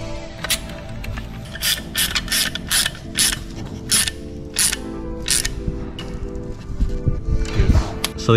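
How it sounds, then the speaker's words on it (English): Ratchet clicking in quick bursts while backing out a 10 mm bolt holding the fuel filter bracket on a fuel-injected Honda street motorcycle, close and fairly loud, with some mechanical clatter. "We're just gonna remove that one 10 millimeter bolt."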